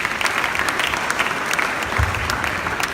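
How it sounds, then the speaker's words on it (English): Audience at a youth empowerment programme event breaks into applause, a full even wash of clapping from many hands, steady and moderately loud for a few seconds. "A round of applause for him."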